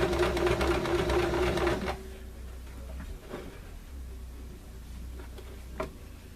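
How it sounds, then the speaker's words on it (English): A sewing machine top stitches a tote bag in a fast, steady mechanical chatter for about two seconds, then stops. Faint handling noises and a low hum follow, with one small clack. "we're top stitching over where we already top stitched one end closed"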